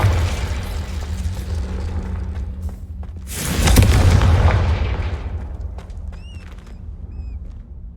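Confringo spell blasts in Hogwarts Legacy, with low rumbling background, then a loud explosive burst around the middle that decays slowly, followed by a few faint chirps.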